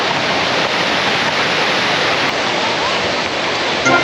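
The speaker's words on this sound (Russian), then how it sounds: "Очень холодная вода и водопад." Waterfall of very cold mountain water in the Polish mountains near a bridge, a loud, dense, unbroken roar filling the whole stretch at close range, with no talk over it.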